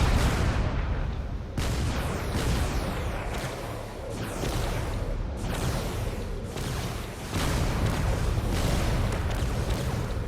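Heavy cannon fire from a combat craft in the game Drone Wars, dense booming volleys rolling almost without pause, loud and close, with sharp fresh blasts breaking in near 1.5 and 7.5 seconds.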